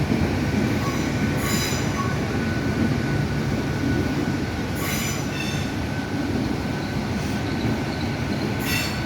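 A Class 800 train arrives at Plymouth station with a loud, steady rumble of wheels on rail and repeated high squeals from the wheels, close by and continuous.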